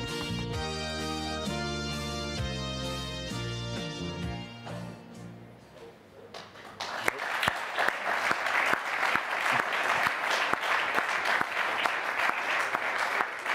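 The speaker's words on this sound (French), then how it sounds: "il est temps qu'on acclame l'arrivée du roi Jean en chantant Yes We Can" Sailor Jean Le Cam's arrival is greeted by a crowd bursting into loud sustained applause and cheering after a passage of sung or played music.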